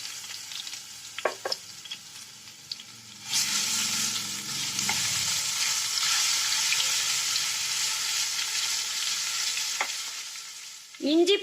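Ginger garlic paste for a roadside-style egg gravy drops into hot oil, bursting into a loud, sustained sizzle after a few scattered clinks, then a sharp scrape of stirring at the end.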